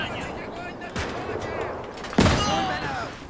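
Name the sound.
gunfire in Gates of Hell video game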